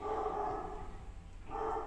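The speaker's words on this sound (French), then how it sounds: "il y a mon chien qui est en train d'aboyer dehors" A dog outside barks in two muffled bursts, one at the start and another near the end, with a quieter gap between them and no talking.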